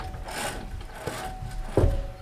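Front wheel hub on a 2015-2022 Chevy Colorado turned by hand, giving soft mechanical ratcheting and grinding with a slightly louder clunk near the end, fairly close and steady, with no talking.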